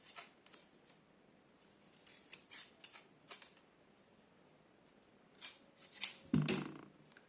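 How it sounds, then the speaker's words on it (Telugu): Scissors trim the excess edges of plaster tape into a rectangle. There are soft snips and handling rustles, then a louder, close cut near the end. "ఆ ఎక్కువలను కత్తిరించాను కరెక్ట్గా"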